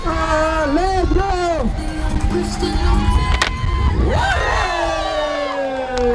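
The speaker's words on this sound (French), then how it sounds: "Un maximum d'applaudissements s'il vous plaît" A crowd at a cycling event cheers and shouts loudly and continuously, with whistles and voices rising and falling throughout the noisy burst.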